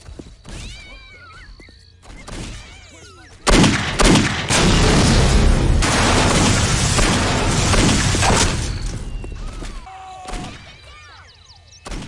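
Loud, sustained gunfire in a first-person shooter, a dense roaring burst lasting several seconds and framed by quieter clatter and short game sounds before and after.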